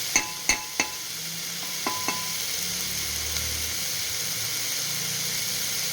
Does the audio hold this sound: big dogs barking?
no